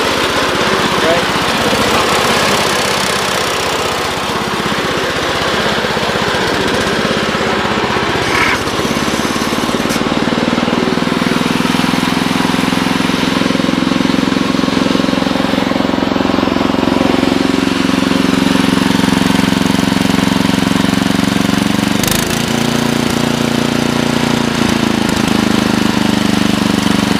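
A Bolen 1050 snowblower engine runs steadily at close range, a loud continuous rumbling drone that shifts pitch partway through as the engine load changes.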